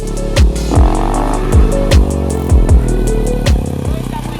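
A motorcycle ridden hard for a power wheelie revs loud and close in short repeated surges. Each surge rises and falls quickly, in a steady chopping rhythm.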